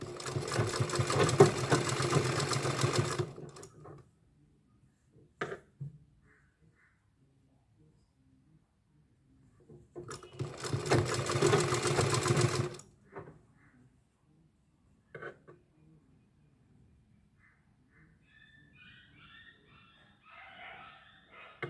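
A sewing machine stitching a frock made from a saree runs in two loud whirring bursts of about three seconds each, separated by quiet pauses with small clicks and handling noises.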